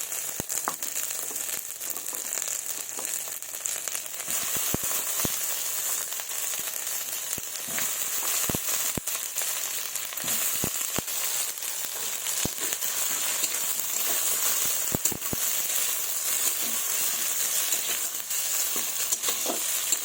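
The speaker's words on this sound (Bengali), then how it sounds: "মশলাটাকে একটু ভেজে নেব। এবার দিয়ে দেবো কুলগুলো।" Spices and jujube fruits fry in a hot pan for a chutney, a steady bright sizzle with occasional pops and scraping stirs throughout, close up and continuous with no voices.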